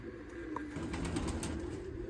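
Soft pigeon cooing murmurs low and steady through a quiet outdoor background, with faint brief chirps above it and no talking.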